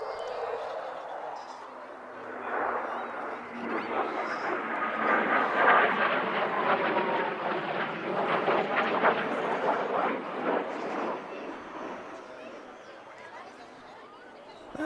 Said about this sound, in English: Here we see the Typhoon performing a slow roll.